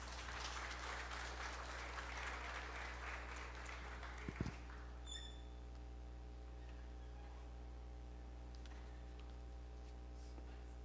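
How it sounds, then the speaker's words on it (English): Applause from an audience at a coronation night ceremony, a broad wash of clapping heard over a steady electrical hum. It fades out after a few seconds, leaving only the hum and a few faint clicks. "A resounding applause for her,"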